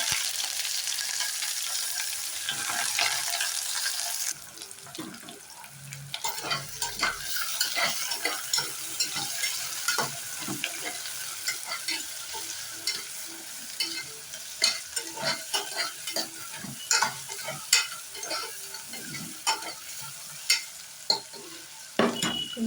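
Sliced onions fried in hot oil with whole spices for mushroom biryani, a steady sizzle under repeated scrapes and clinks of a spoon stirring the pan, close and continuous.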